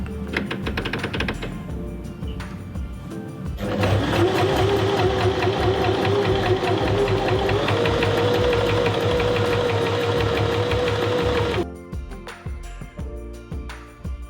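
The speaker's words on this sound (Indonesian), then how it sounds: "Kemudian jahit bagian lurus hijab dengan jahitan longgar." A sewing machine runs a long straight seam on a hijab with a loose stitch setting, a steady loud mechanical whir with rapid needle clatter lasting several seconds, framed by shorter start-stop bursts.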